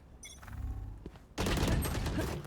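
Gunfire in Valorant breaks out in a dense, loud burst of shots after a short stretch of quieter game sounds, with voices faintly audible in the background.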